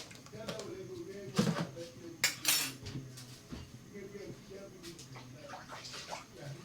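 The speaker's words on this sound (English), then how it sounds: "Then we go in with our water, guys." Water is poured into a cooking pot for vegetable yam porridge, a splashing pour with pot and utensil clatter nearby and a voice speaking in the background.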